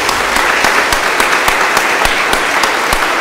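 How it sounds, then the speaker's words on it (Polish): A crowd at an awards ceremony for a Kraków school sports competition gives loud, dense, sustained applause that fills the room evenly from start to finish. "Wielki ukłon i wielkie brawa jeszcze raz dla państwa."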